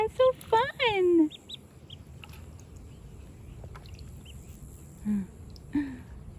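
Baby ducks peep with high, rising chirps in quick bursts near the start, then sparse faint peeps follow over a quiet background after their first swim.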